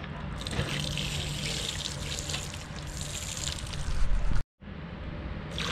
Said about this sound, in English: Soapy water.